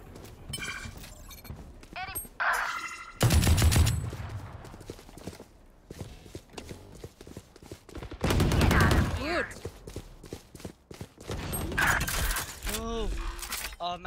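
Gunfire in the tactical shooter Valorant, with loud bursts and shots at about 3–4 s and 8–9 s over game effects, players talking over the action.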